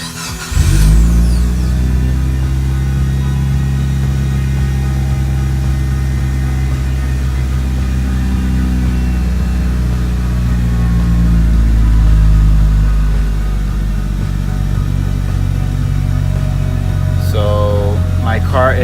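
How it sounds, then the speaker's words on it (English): A Mitsubishi Evo 8 engine cranks and fires up, then settles into a loud, steady low rumble that runs close and continuous, with a faint brief rev-like rise near the end. "let me turn on the car"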